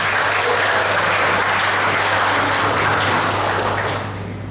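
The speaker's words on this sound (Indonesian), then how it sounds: "tepuk tangan untuk kita semua" A large crowd at a university faculty graduation ceremony in Indonesia claps together in loud, sustained applause that holds steady, then fades toward the end, with a constant low hum underneath.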